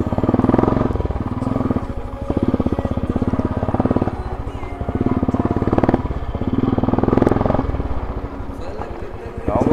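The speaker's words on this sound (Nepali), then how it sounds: "स्टार्ट गरियो बाइक हिँड्यो" A motorcycle engine runs steadily with a rapid pulsing throb as it rides along a village road, loud and close, rising and falling slightly with speed.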